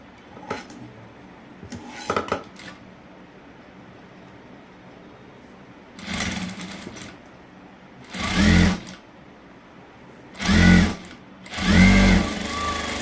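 A sewing machine stitches cloth for a blouse in short, separate runs of rapid mechanical whirring, with quiet pauses and small clicks of handling between bursts.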